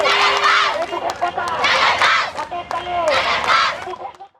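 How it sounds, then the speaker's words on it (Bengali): Students chanting and shouting in unison at a protest and human chain in their school grounds, loud rhythmic crowd cries rising and falling in bursts with voices overlapping. "এ ঘটনার প্রতিবাদে আজ সকালে বিদ্যালয় প্রাঙ্গণে বিক্ষোভ ও মানববন্ধন কর্মসূচি পালন করে শিক্ষার্থীরা।"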